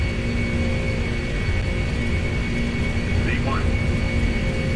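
The jet engines of a Boeing 747 at takeoff thrust roar steadily and loudly through the takeoff roll, a constant low rumble with a faint whine, heard from inside the aircraft.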